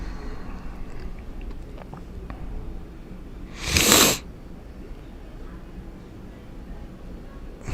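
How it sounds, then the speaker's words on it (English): A single sharp sneeze bursts out midway during a live outdoor convoy gathering, loud and close over a steady background rumble of ambient noise, with no speech. "Excuse me there for that sneeze."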